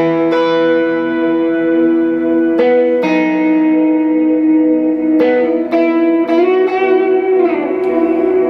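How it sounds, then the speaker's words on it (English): A sustained guitar chord rings out through a reverb pedal with a washy, lingering tail, new strums landing every couple of seconds and blooming into a thick, echoing wash. "just kind of has a little bit more reverb to it, but it just thickens it up a lot"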